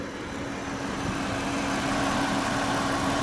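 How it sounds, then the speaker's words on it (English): A stock 2012 Jeep Wrangler Rubicon two-door with original airbox and exhaust idles smoothly, a steady low engine hum heard close and alone with no talking. "Engine runs very smooth."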